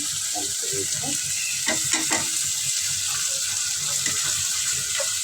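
Spices, tomato and bean seeds frying in a pan, a steady close sizzle with stirring scrapes and small clattering knocks, and a voice faintly audible in the background.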